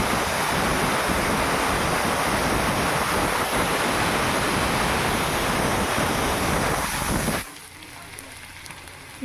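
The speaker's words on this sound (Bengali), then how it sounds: "এটাকে এবার আমি ফ্রাই করছি" Onion, garlic and ginger sizzling in hot oil in a pan for paneer bhujia, a loud, steady frying hiss for about seven seconds before the sound cuts off to near silence.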